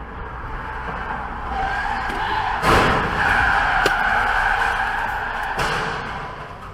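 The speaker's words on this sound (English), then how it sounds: "This is a Subaru Impreza WRX STI rally car in Jamaica." A Subaru Impreza WRX STI rally car in Jamaica roars past nearby, engine swelling with gravel skidding and a few sharp crackling bursts over steady road noise.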